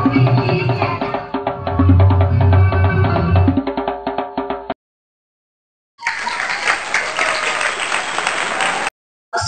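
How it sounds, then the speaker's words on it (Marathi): Audience at a home minister stage show breaking into loud, sustained applause and cheering, dropping to silence midway, then a second burst of clapping from the crowd. "जोरदार टाळ्या वाजवल्या पाहिजे एकदा स्वतःसाठी"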